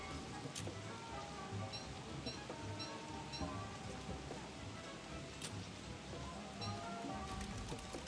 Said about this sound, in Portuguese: Ai, chuva.